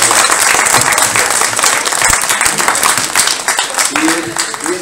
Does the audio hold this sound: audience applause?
yes